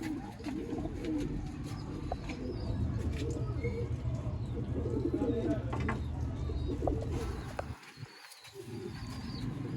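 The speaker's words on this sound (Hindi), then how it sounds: "देखो कबूतर" Sialkoti pigeons cooing softly in a loft, low murmuring coos and scattered chirps from several birds under a steady background hum, with a short pause near the end.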